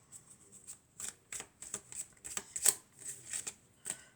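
Tarot cards being shuffled and drawn by hand, a quick run of soft papery riffles and flicks close up, irregular bursts with short gaps, quiet and alone.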